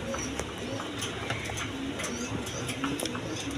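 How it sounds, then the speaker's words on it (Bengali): A pair of German seal pigeons cooing in repeated soft, low throaty pulses, close by, with light background clatter and no clear talk over them. "এখানে এক পেয়ার জার্মান সিল কবুতর দেখেন"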